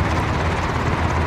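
Helicopter in a video game, a continuous close rotor and engine drone with a faint rhythmic chop, loud and steady across the short span with no talking.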